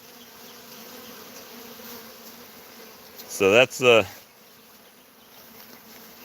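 Honeybees buzzing steadily around a backyard hive fitted with an entrance reducer, a soft continuous hum broken by a brief louder passage of speech.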